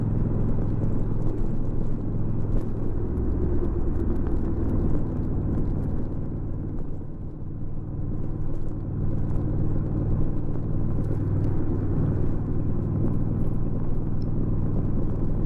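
A Honda DCT motorcycle ridden on the road, its engine a continuous loud rumble with a brief easing and change in pitch around the middle as it shifts down before a curve.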